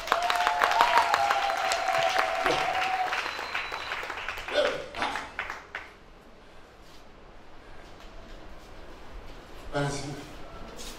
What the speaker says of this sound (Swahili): hivi unaweza kumpigia Yesu makofi?